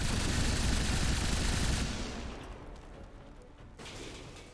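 Sustained gunfire bursts in the video game XCOM 2, loud and dense at first, then fading into a quieter rumble with one brief later burst.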